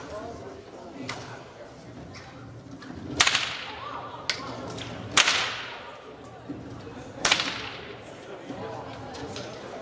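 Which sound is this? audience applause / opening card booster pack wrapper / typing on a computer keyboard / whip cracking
whip cracking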